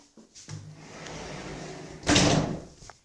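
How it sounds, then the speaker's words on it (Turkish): A door being pushed shut with a soft scraping slide, then a louder thud of it closing, heard alone at close range. "Şu kapıyı da kapattım ya."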